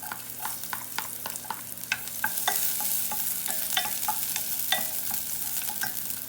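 Sautéing in a pan to start ginataang kalabasa with ground pork, a steady sizzle broken by repeated sharp scraping and clinking of a utensil stirring against the pan, no voices.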